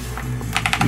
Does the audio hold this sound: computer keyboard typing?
yes